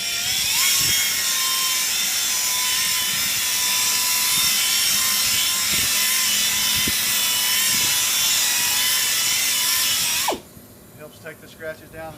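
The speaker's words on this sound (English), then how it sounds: "I prefer the pneumatic drill on these last 2 steps." A pneumatic drill runs at high speed with a steady, loud whine while polishing a car headlight, then cuts off abruptly near the end, leaving quiet handling noises.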